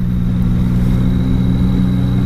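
Yamaha Tracer 900 GT motorcycle with an 847 cc three-cylinder engine running close and loud, a steady even idle hum with no change in pace.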